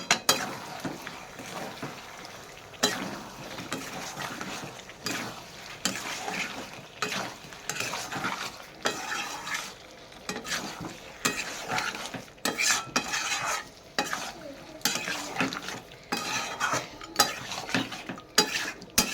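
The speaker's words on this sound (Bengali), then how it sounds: "চিকেন কারি মশলাটাকে দিয়ে দেবো তবে আবার নেড়ে চেড়ে নেবো" Chicken curry masala stirred and scraped in a pan with a spatula, close and repeated, in irregular bursts of scraping and clinks over a low sizzle across the whole stretch, with no talk.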